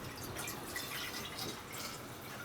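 Water pours into a Still Spirits Air Still Pro, a steady close splashing and trickling of liquid filling the vessel, soft and continuous with no talking.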